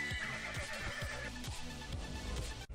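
A horse whinnies in a drawn-out, wavering call over a rhythmic series of hoof-like thuds, ending abruptly, in the video game The Textorcist: The Story of Ray Bibbia.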